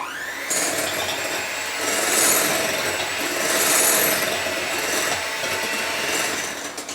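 A steady high electric hand mixer motor whine runs nonstop at close range while beating eggs, swelling and easing slightly as it works, with no talking.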